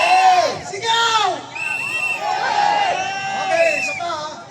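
Rally crowd of DDS supporters at Liwasang Bonifacio, Manila shouting together in loud, sustained waves of massed voices and cheers, swelling and dipping across a few seconds.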